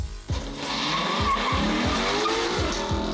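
Lexus NX 300h sliding through a corner on a timed track lap, tires squealing loudly and continuously over a steady engine drone, close and alone without voices.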